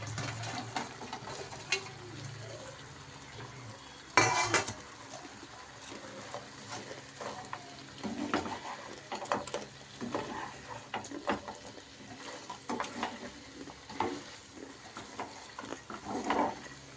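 Dry cauliflower pieces for gobi manchurian fry in a pan with a steady low sizzle, broken by repeated scraping stirs and a louder clatter near the start.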